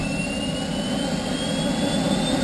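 A fighter jet engine spools up on its turbine starter. It gives a steady, loud, broadband roar with a rising high whine, and no one speaks.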